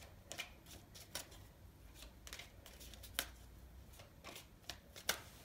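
Tarot cards are shuffled and drawn from a deck, giving faint, close flicks and snaps at irregular intervals over a quiet room.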